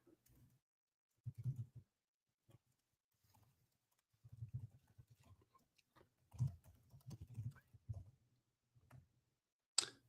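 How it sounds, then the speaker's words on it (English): Keys clatter on a computer keyboard in quiet, scattered bursts of clicks with short pauses between runs, fairly soft and close, with no voices over them. "I'm just typing in my notes right now"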